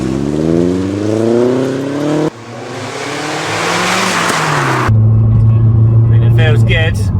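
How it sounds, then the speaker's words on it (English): A remapped Vauxhall Astra H VXR Mk5 pulls away and climbs through first gear, breaks briefly at the shift, then pulls again through second. It settles into a steady cabin drone while a voice is heard. "Right, let's pull away now in first and second."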